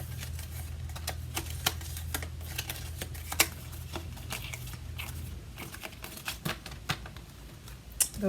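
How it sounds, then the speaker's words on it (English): A deck of playing cards being shuffled at a game-day table, a run of crisp flicking riffles and snaps close by with a low hum beneath at first, no talking. "Let me get these a quick shuffle"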